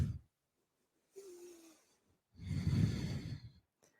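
A long, breathy exhale during a yoga forward fold in a power vinyasa class: a soft airy rush that swells and fades over about a second, close and alone, after a brief faint hum.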